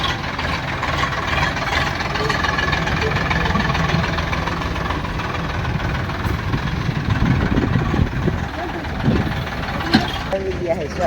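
A farm tractor engine idles steadily, a continuous low chugging drone that holds at an even level, with voices talking over it in places.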